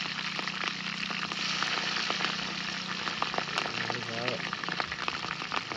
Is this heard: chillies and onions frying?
yes